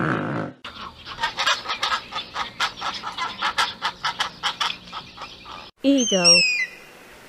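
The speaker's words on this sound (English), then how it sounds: "pelican" A pelican calling, a rapid run of harsh rhythmic clattering pulses for several seconds, then a brief higher squawking burst near the end, fairly close and alone.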